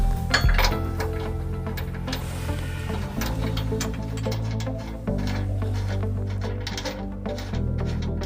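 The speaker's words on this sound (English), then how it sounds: "So now we're going to install the provided hardware into the two bolts here that are on either side of the frame." Hitch hardware going into the frame bolts of a 2005 Toyota Tacoma, heard as repeated light metallic clinks and taps scattered throughout, close by, over steady background music.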